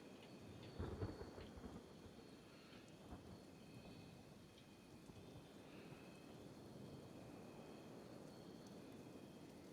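Acid rain in the video game Kenshi hisses as a steady wash of rainfall, with a low rumble of thunder near the start and faint tones drifting above.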